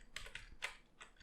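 Faint clicking of a computer keyboard, a few scattered keystrokes in quick succession, quiet and close with no voices.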